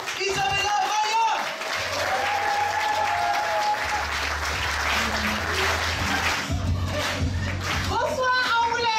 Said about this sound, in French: je vous demande de faire un tonnerre d'applaudissements pour Isabella Raya